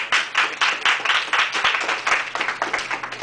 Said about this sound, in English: we should give a round of applause to the person that's kind of directing it